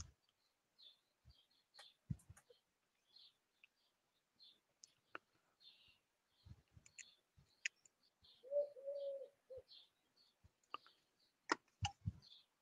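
Wood pigeon in an English garden, its soft cooing phrases faint and distant amid scattered chirps from other birds and occasional nearby clicks and taps.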